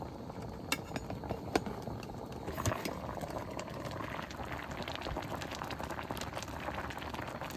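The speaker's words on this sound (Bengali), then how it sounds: "পাতাকপিটা বেশ সুন্দর সিদ্ধ হয়েছে" Cabbage boiling in a pot for potato-stuffed cabbage chops, a steady bubbling simmer running throughout with a few faint clinks, close and even in level, no talking.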